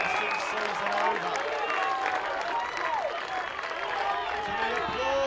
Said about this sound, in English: To the applause of the Brighton players.